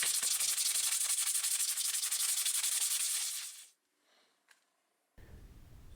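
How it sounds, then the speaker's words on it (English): Sandpaper smoothing rough drilled holes on the back of a rock scoop spoon, fast close rhythmic scratchy rubbing for several seconds that stops, followed by a faint tap and a low rumble. "I used a little sandpaper to smooth them out"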